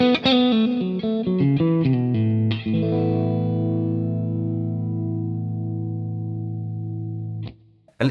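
An electric guitar played through a Boss Katana Artist Gen 3 amp with Dumble-style overdrive and vintage reverb plays a quick melodic run, then lands on a loud, sustained chord that rings for several seconds before being cut off.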